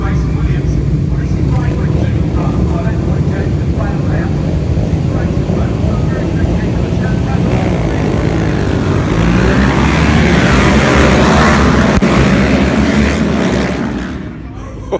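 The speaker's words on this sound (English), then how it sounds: "just watching some of the bikes go past" Racing motorcycles passing at Brands Hatch circuit on a drying track, a loud continuous engine roar that swells as the bikes go by, with a voice talking over it.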